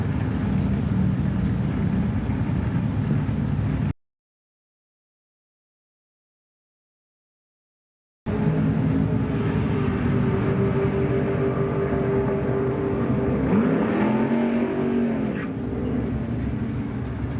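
Drag racing dragster with a 590-inch motor at a night drag strip, a loud, continuous engine roar at a distance with a rising surge near the end, broken by a silent gap midway.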